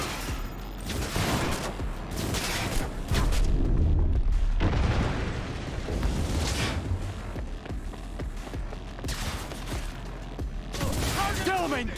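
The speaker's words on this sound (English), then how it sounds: "That's a grenade." A grenade blast in Cyberpunk 2077 amid heavy gunfire, with deep booms and rattling bursts running continuously at close range and a loud swell in the middle, all dense and chaotic.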